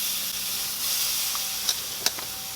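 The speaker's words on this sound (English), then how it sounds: "And it's time to sear it." A tri tip steak sears in a hot pan, a faint steady sizzle and hiss running throughout with a couple of brief pops near the end.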